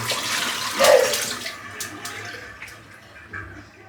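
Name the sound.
rinsing a shaving brush under running water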